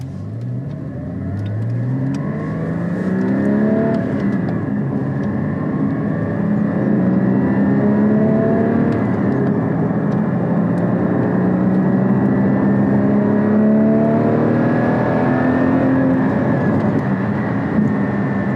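A 2016 Porsche GT4 engine pulls away in first gear, the revs climbing in long rising sweeps, loud and steady from inside the car.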